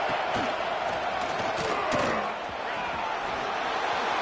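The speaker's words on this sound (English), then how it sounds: "And here comes the noise. This crowd is trying to inspire this defense to make a big red zone stop." Roaring football stadium crowd during a third-down red zone defensive stand in an Auburn game, a dense, sustained wall of cheering that swells around the middle and stays loud throughout.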